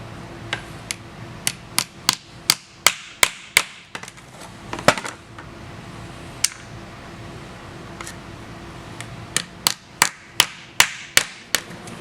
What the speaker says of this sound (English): We're actually going to take a hammer and drive these in.